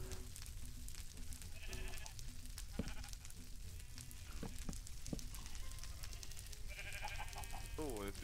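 Sheep in Minecraft give a few wavering bleats at moderate volume over a dense background of game ambience and crackling, sizzling noise.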